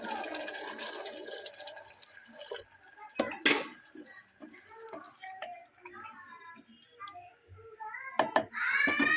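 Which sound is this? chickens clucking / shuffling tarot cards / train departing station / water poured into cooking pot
water poured into cooking pot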